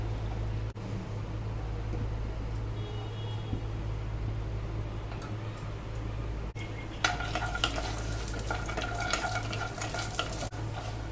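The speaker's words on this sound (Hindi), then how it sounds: "रोस्ट हो गया है ड्राई फ्रूट, हम निकाल ले रहे हैं।" Dry fruits roast in a pan, giving a soft continuous sizzle with scraping stir strokes that grow busier and clinkier toward the end, with no talk.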